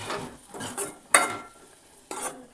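A spoon stirs chana curry with a spoonful of water in a pan, a few short scraping strokes with two sharper clinks against the metal, fairly quiet and close, with no voices.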